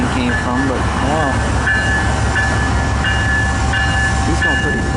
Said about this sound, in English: Wasn't expecting a CN train.